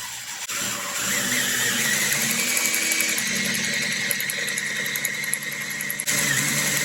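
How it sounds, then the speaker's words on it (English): A steady, loud mechanical whine of a power drill running continuously for several seconds, driving the oil pump to prime a 1968 Pontiac Firebird engine, with a slight strain and a brief dip near the end. "I've got my drill hooked on there, and we'll start pumping here and see if we get pressure"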